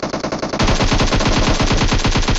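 Rapid automatic gunfire in a mobile battle royale shooter during an attack in a ranked match, a steady loud burst of close, evenly spaced shots that starts abruptly and keeps going without pause.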